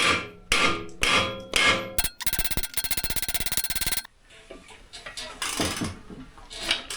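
A hammer strikes a bolt to free a stuck torque converter: several sharp metallic blows, then a rapid stretch of fast repeated hits, followed by quieter scattered clanks and knocks, close up.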